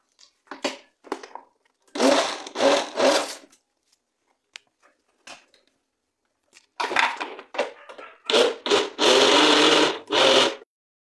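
A blender pulses thick puba (fermented cassava) cake batter with condensed milk in short, irregular bursts. The whirring comes in stuttering clusters separated by near-silent pauses and grows longer and denser toward the end.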